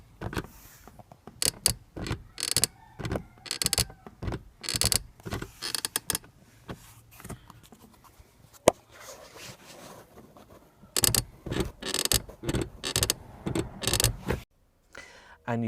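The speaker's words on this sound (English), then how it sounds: "the world famous Evora 400 Creaky seat" The seat of a Lotus Evora 400 creaks in repeated bursts as someone shifts their weight. The creaks come in irregular clusters with brief quiet gaps and are close and fairly faint.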